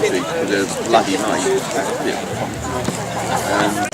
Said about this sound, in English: And here's all the crowd.